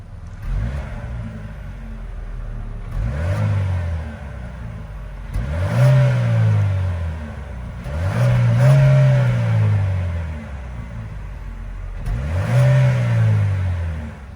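The 1.5-liter turbo four-cylinder in a 2022 Chevy Equinox LT is revved at a standstill, rising and falling four times in spaced blips over a steady idle, heard fairly close with no talking.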